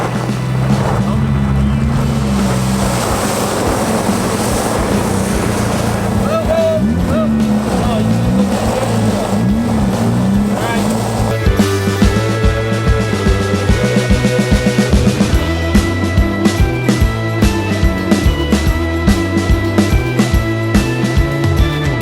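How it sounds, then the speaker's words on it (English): A Subaru engine strains in low, wavering revs while pulling a stuck Toyota Celica from loose rock at an off-road event. The engine drone stays loud and close throughout, with rising and falling pitch, then sharper rhythmic knocks and crunching in the second half. "we're gonna pull him out with the Subaru"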